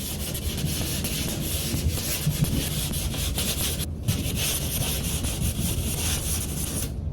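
Continuous scratchy rubbing of sandpaper on spackle patched into a wall, steady and close, with a brief pause partway through and no talking.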